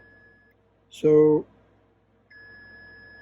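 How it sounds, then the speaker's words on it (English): Steady high electronic tone from an ESR meter testing a capacitor during repair of a 1960 Stuzzi FiCord 101s reel-to-reel recorder, cutting off briefly and resuming, with a short spoken word in between. "it beeps at 3 ohms."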